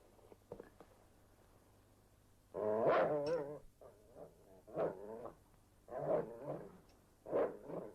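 A dog growls in low, rough bursts at close range, several separate snarls rising and falling across a few seconds between quieter pauses, with no talking over them.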